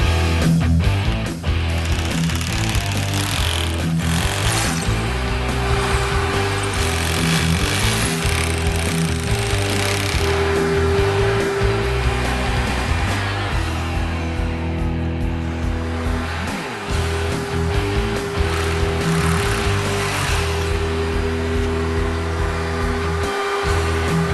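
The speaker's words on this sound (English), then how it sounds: "With an 8mm masonry bit, let's finish drilling the sides." A power drill with an 8mm masonry bit grinds steadily into masonry, a loud continuous whine with rough, rattling texture, close up and unbroken throughout.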